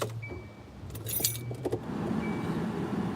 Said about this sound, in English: let me turn my car on first.